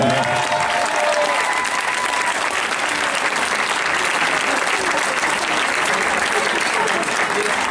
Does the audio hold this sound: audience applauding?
yes